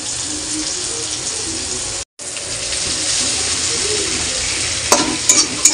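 Onion dropped into hot oil with cumin seeds, giving a continuous close sizzle with a brief cut to silence partway through, then a few sharp clatters near the end.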